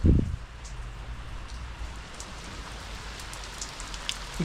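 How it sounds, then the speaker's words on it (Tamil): Heavy rain pours steadily onto surfaces, a dense, constant hiss of drops; a brief low thump sounds at the very start. "வெளியில் வந்து செம்ம மழை பெஞ்சிட்டு இருக்கு"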